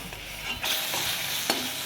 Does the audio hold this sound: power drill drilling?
no